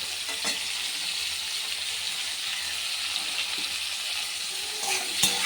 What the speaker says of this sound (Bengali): এটা একটু ভাজা ভাজা করবো, হালকা ভাজবো